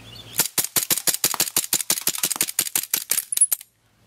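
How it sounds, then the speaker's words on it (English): Swiss Arms P92 airsoft pistol firing a rapid string of roughly twenty sharp, loud snapping shots at a steady fast rhythm, close by, ending abruptly as the gun empties. "now we're going to take some very slow and careful calculated shots."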